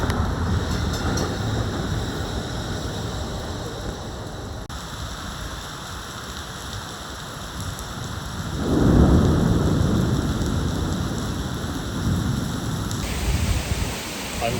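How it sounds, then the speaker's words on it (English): Heavy rain pours down steadily during a thunderstorm in Europe, with a deep roll of thunder swelling midway through the dense, hissing downpour. "So I'm just setting off, and there's a thunderstorm."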